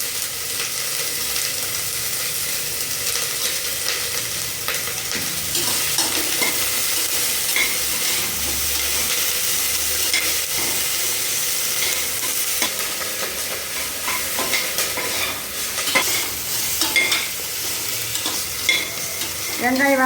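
Onions fry in a pan with cloves and cinnamon while being stirred for a tomato kuruma, a steady close sizzle with irregular scraping and stirring clatter running throughout.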